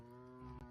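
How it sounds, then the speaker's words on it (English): A single cow moos, one short, low, sustained tone heard up close with nothing else around it. "Are you mooing because you want to be one with the cows?"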